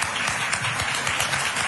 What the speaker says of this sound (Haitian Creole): Collègue Lio te bali un peu d'applaudissements après le fin de prendre la parole